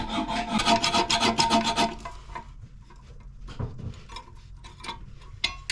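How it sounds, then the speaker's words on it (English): Hacksaw-like rasping as bolts are cut off a newly installed toilet, a fast strong stroking rhythm for about two seconds, then fainter scattered scrapes and taps, close up. "okay, we can cut the bolts."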